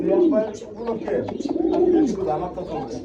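A White Beauty pigeon coos in a series of close, rolling, repeated coos that rise and fall at a steady rhythm, with faint background noise.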